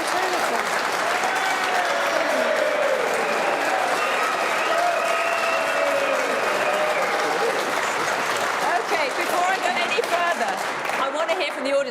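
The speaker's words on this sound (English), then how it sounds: "that was a massive cheer there" A studio audience at a televised political debate cheers and applauds loudly and continuously, with a dense wash of clapping and shouting voices that holds steady the whole time.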